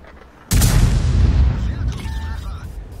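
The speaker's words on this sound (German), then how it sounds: "Beschuss wird aufgenommen." A single loud tank cannon blast in World of Tanks booms suddenly, followed by a long rumbling decay, with a faint voice speaking underneath.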